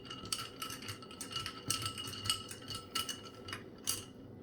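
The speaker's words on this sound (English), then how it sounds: "Get a long spoon and stir those in." A long spoon stirring mint leaves into Haymaker's punch, clinking repeatedly against the container in a quick irregular rhythm, close and fairly quiet, with no talking.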